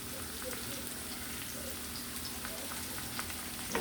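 Sauce and stock cook down hard over a high flame, giving a steady, close, crackling sizzle that runs through the whole stretch with small pops and no voices.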